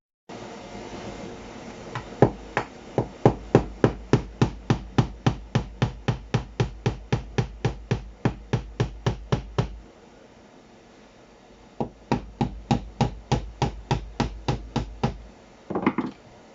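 Hammering on the planks of a wooden ferry boat, rapid sharp wooden knocks in a steady run of about thirty blows, a pause, then a second shorter burst, close and loud.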